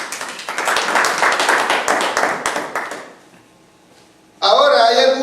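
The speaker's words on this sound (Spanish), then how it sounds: "Denle un aplauso a Cristo." A church congregation claps together for about three seconds, a dense burst of many hands that fades out, followed by a short lull and then a loud, bright noise at the end.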